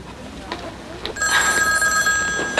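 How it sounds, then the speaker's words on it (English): A landline telephone rings in a television soap opera scene, a steady electronic trill starting about a second in and continuing loud to the end, with faint movement before it. "Later. I gotta get the phone."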